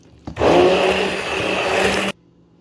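A blender whirring steadily as it purees onion, cashew and tomato into a paste for restaurant-style butter chicken, a loud continuous motor whine that starts abruptly and cuts off after about two seconds.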